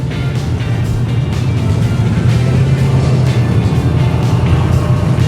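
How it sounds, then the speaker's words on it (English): An off-road race car competing on the King of the Hammers course in the Every Man Challenge qualifying, a loud steady engine drone that fills the whole clip without letting up. "And we've got another car on course"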